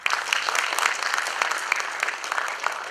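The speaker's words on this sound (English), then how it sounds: "Let us give a round of applause to our speaker, Professor Christopher Charles Benninger." An architects' meeting audience at Mizoram University gives a dense, steady round of applause that fills the hall with close, continuous clapping and no talk on top.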